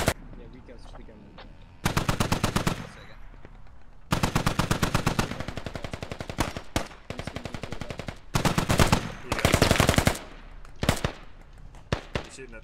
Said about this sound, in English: You're shooting at the far back.